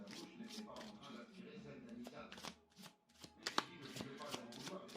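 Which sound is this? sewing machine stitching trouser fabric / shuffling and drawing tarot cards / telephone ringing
shuffling and drawing tarot cards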